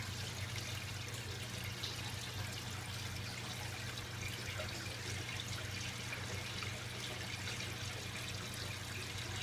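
Water trickling through an aquaponic IBC tote system with floating rafts in a garage, a faint, steady, continuous flow with a low hum underneath and no voices.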